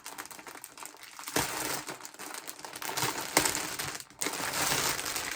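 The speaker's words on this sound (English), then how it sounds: "Sorry for the crinkling." Plastic yarn packaging crinkling and crumpling close up in handled bursts, loud crackles rising and falling for several seconds with a brief pause near the end, no talking.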